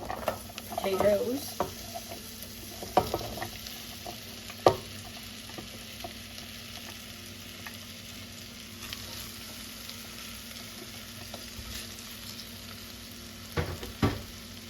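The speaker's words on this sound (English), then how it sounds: "So I'm just going to add my potatoes" Potatoes sizzling and frying in a pan for vegetable soup, with scraping stir strokes and clatters at irregular intervals over a steady fry, loudest near the start and end.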